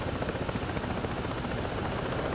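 A video-game helicopter fills the whole stretch with a loud, steady rotor roar and a dense thrum, with no voices over it.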